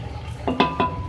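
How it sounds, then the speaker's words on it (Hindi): Rice poured into a cooking pot for dumba yakhni pulao, giving two quick clinking, rattling bursts against the pot under a low kitchen hum, close and moderately loud. "अब मैं इसमें ऐड कर रही हूँ राइस"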